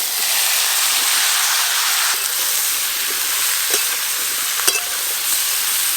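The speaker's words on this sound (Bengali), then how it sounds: "এখন এই সবজিগুলো ভেজে নেব।" Potatoes, carrots, pointed gourd and pumpkin fry in a pan with a loud, steady close sizzle, broken by a few sharp pops and stirring scrapes, with no talking.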